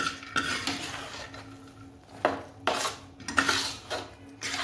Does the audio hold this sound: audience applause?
no